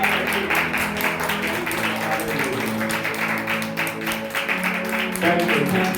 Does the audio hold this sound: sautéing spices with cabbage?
no